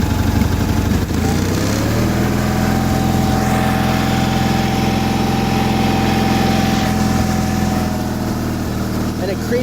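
A John Deere 210 lawn tractor engine with an electrical fault runs steadily and loudly nearby, its pitch rising and then settling into an even drone, with a voice speaking over it.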